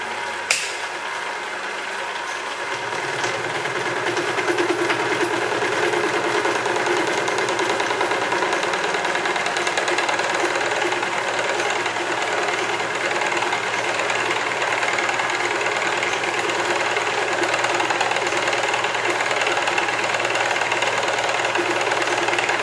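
Machine tool runs through a final cut, a steady mechanical hum and whir that spins up in the first seconds and then holds constant for the rest, close and moderately loud.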